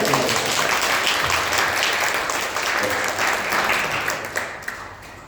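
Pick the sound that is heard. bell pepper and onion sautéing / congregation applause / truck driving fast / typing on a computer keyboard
congregation applause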